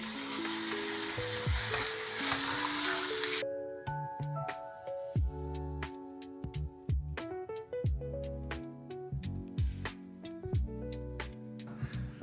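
A kilo of beef frying in a pan gives a loud, steady sizzle for the first few seconds, then cuts away to busy music with no further frying heard.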